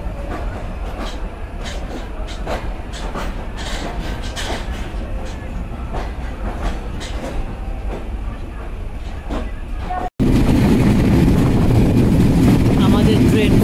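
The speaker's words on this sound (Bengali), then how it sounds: "সন্ধ্যা 7টা 46 মিনিটে আমাদের ট্রেন ছেড়ে গেল নোয়াপাড়া রেলওয়ে স্টেশন থেকে" Kapotaksha Express intercity train pulling out of Noapara railway station at night, bound for Khulna: a steady close rumble with rhythmic wheel clicks, abruptly growing louder and rougher near the end.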